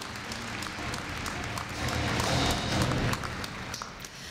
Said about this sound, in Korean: 축하 박수 부탁드립니다